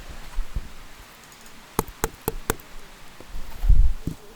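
A tree trunk knock sample plays as four sharp, evenly spaced wooden knocks, close and dry, followed by a deeper low thump near the end over quiet outdoor background.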